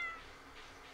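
Cat meowing when petted in the farming game Stardew Valley, a single short, fairly faint game meow lasting about a second with no talk over it.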